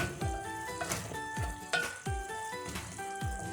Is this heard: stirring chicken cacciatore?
yes